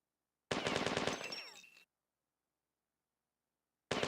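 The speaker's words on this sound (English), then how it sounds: "Assault rifle grenade launcher." Assault rifle firing in a video game on an old Umax SuperMac C600, a rapid burst of shots for about a second and a half that tapers off, then silence before another burst starts at the very end.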